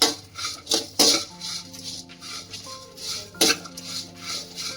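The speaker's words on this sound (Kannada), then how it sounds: "ಎಲ್ಲವನ್ನು 1 ರಿಂದ 2 ನಿಮಿಷಗಳ ಕಾಲ ಫ್ರೈ ಮಾಡಬೇಕು" Spoon clinks and scrapes against a pan as spices for chicken ghee roast are stirred and fried, with a steady low sizzle and sharp metallic knocks near the start and around the middle, close and clear.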